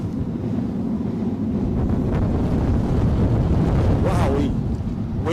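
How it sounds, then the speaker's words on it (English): Strong wind gusts buffet an outdoor microphone beside an airport runway during a storm, a steady loud roar with a surge near the end. "Wow, wind's just reappeared."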